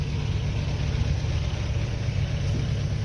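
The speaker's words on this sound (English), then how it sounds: "I guess we'll see if this old 350 will kick off or not" An old 350 engine idles at a steady, low, close rumble with no break, and the throaty hum holds an even level throughout.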